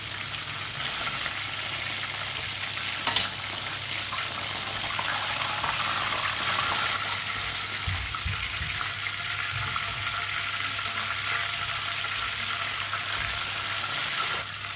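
Pieces of chicken frying in oil in a pan, a steady close sizzle that continues alone for the whole stretch, with a brief clink of a utensil near the start.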